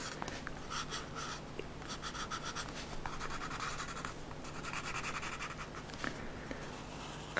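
Graphite pencil held flat in the palm, shading across paper in a steady, close, quiet scratching with short strokes and brief pauses, no voices over it.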